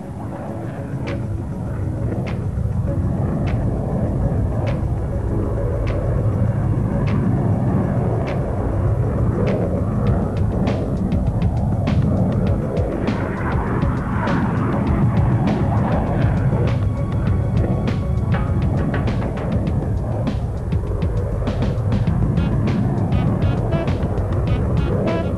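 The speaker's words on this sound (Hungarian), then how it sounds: "Az elegáns vonalvezetésű deltaszárnyú vadászgép kitűnő manőverező képességgel rendelkezik" A Mirage 2000 delta-wing fighter jet roars through a flying display at the Kecskemét air show in 2000, a loud continuous rumbling thrust sustained throughout with no talking.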